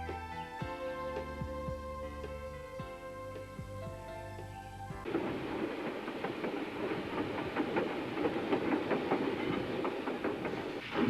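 A train rumbles along the rails of the Southwold Railway near Blythburgh with rhythmic clickety-clack, steady and moderately close, after a stretch of sustained tonal music.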